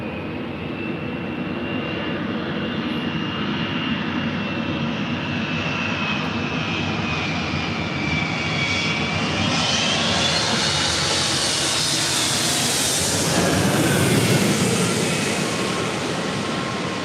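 A Boeing 777-200 jet airliner from SFO on short final to runway 24 left at LAX gives a loud, steady engine roar. The roar swells near the end as it passes overhead.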